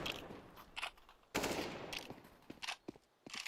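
Bursts of automatic gunfire in a Counter-Strike-style esports match between ViCi Gaming and Beyond Esports, with scattered short volleys and a sustained loud burst midway, moderately close.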